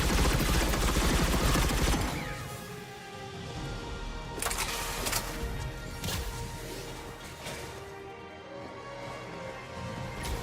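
Hostile gunfire in the Mass Effect 3 video game, dense crackling bursts and impacts in a continuous loud battle, with sharper shots standing out amid the din.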